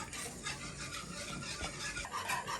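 Flour mixture being stirred in a pan for a creamy pink pasta sauce gives soft, continuous scraping and faint sizzling at a quiet level, with no voices.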